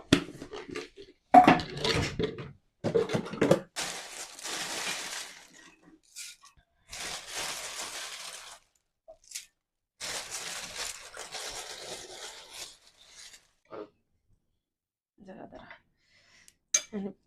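A fuchka filling is mixed and mashed in a bowl with tamarind water, sugar and mint leaves, scraping and crunching in close intermittent bursts with short pauses between.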